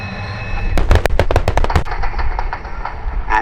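Pyrotechnic charges from a Strikemaster's strafing run at the RAF Cosford Airshow 2017 go off in a rapid cluster of sharp, loud bangs. A lingering rumble and crackle follows.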